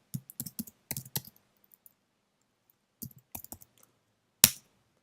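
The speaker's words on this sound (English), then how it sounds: "Push S on the keyboard to save it." Computer keyboard keys clicking in short clusters of taps, quiet and close, with gaps of silence and one sharper louder click near the end.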